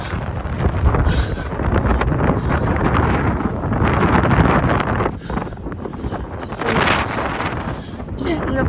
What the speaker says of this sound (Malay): Kuatnya angin.